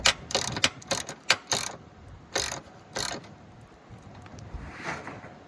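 A ratchet wrench tightens the battery hold-down bracket on a 2004 Honda CR-V, giving a series of sharp clicking bursts in quick irregular groups, then fainter scattered clicks toward the end.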